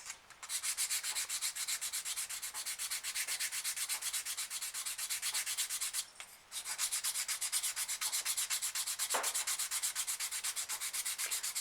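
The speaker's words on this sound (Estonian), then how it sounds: "Lihvimise ajal pöörades niimoodi kogu aeg lanti sõrmede vahel" A wooden fishing lure is hand-sanded, turned between the fingers as it goes, making a steady, continuous abrasive rubbing with one brief pause midway.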